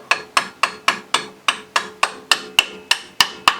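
Hammer tapping a spacer into a groove on a Polaris ATV spindle during a rear bushing install: about a dozen sharp metallic taps in a steady, quick rhythm, close and loud.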